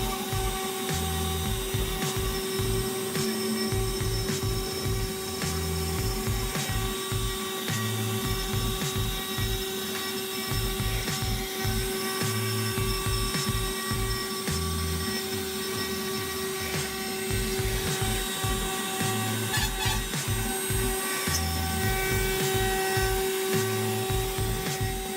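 A CNC router carves wood with a steady motor whine and a pulsing, rhythmic cutting grind that repeats throughout, loud and close with no voices.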